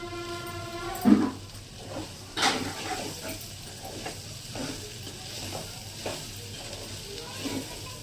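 Ivy gourd and grated coconut fry in a pan for an Andhra-style curry, a steady soft sizzle with occasional stirring clatters and scrapes against the pan, close and moderate in level, no talking.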